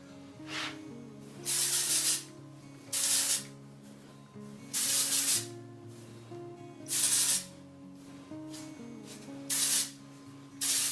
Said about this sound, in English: So I just kind of hold the hair up, spritz it all in there, get right at my root, build some volume.